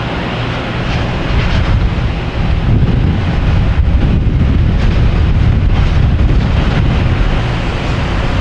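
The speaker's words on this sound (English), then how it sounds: "The wind is gusty, I should say, around here." Gusty wind at Boston Logan Airport buffeting the microphone, a loud continuous low roar that surges and eases throughout with no voices.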